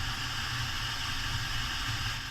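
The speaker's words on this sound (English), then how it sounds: "Look, I told you it go to white noise." White noise static from an Android head unit radio in a Chevy Silverado, a steady hiss with a low hum beneath it, continuous and fairly quiet, with no voices.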